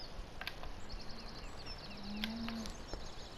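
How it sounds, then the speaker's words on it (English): Cattle in a Baltic Sea farm pasture in the Farming Simulator video game low at a moderate distance, a couple of drawn-out moos against steady outdoor ambience with faint bird chirps. "Here's the cows."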